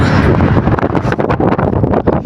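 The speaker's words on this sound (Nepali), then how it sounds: "टपमा सिरिरी हावा चलिरहेको छ" Strong wind on a mountain top buffets the microphone in loud, continuous roaring gusts, close and unbroken, with no voices.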